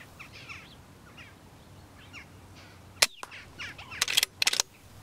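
An air rifle fires at jackdaws decoyed on stubble: a single sharp crack near the middle, followed by a few louder bursts, over faint birdsong and quiet rustling outdoors.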